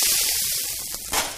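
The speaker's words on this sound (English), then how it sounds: "lightly oil the pan using a spray bottle" A spray bottle oils a very hot grill pan, giving a brief close hiss of mist that fades, then a second quick spritz near the end.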